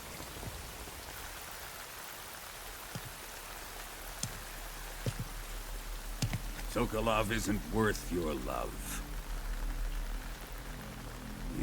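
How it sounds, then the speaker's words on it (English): Rain in the video game Metal Gear Solid Delta: Snake Eater keeps up a soft, steady hiss with a few scattered thuds, and someone speaks over it in the second half. "You can entertain me until the rain stops."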